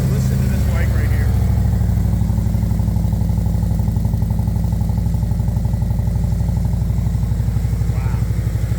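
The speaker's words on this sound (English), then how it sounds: "Listen to this bike right here." A cruiser motorcycle engine idles steadily with a deep, low rumble throughout, loud and close, with a slight rev near the start.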